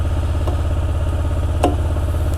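A carbureted Hyosung GT250R motorcycle engine idles with a steady, loud, even pulsing putter and a couple of faint clicks, with no talking.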